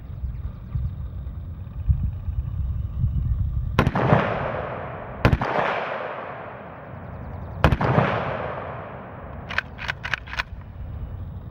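Several loud, sharp AK rifle shots fire at a fire hydrant on an outdoor range, spaced a second or more apart with echoing decays, ending in a quicker burst of three or four rounds over a low steady background rumble.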